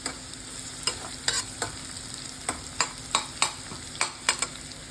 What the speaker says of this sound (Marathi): कांदा चांगला लाल होऊन द्यायचा.